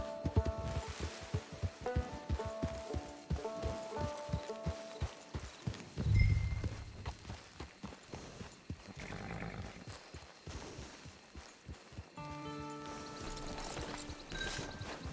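Horse hooves clip-clop steadily in Red Dead Redemption, a loud whinny breaking out midway amid game music and ambient rustle, the trotting rhythm fading then resuming near the end.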